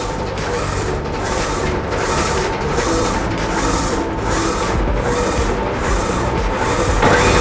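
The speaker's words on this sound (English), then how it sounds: "Now we input image into the computer and initiate the printer." A DTF printer prints an image onto film, its print head sweeping back and forth in a steady repeating rhythm of mechanical whirs and clicks, close and loud, with no voices.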